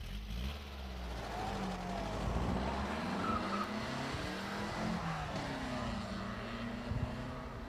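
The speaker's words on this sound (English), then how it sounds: "We got Rob Chase in a 1957 Porsche Speedster, replica built 20 years ago." A 1957 Porsche Speedster replica powers up a hill climb course at a car event. The engine note rises and falls in sweeping pitch as it accelerates through gears, loud and sustained, with a brief tire scrub partway through.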